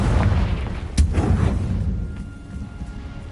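A fiery Confringo spell explosion in Hogwarts Legacy hits with one loud, sharp boom, then a rumbling tail fades under steady background game noise, with no talking.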